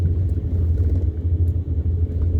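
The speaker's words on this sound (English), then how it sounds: "Big truck coming up fast." A big truck comes up fast along a North Texas road near old railroad tracks, producing a loud, continuous low engine and tyre rumble that stays close throughout.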